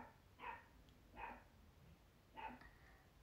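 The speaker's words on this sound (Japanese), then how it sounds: "あ、モカが吠えた。" A dog barks three times, short and fairly distant, with gaps between each bark over quiet background noise.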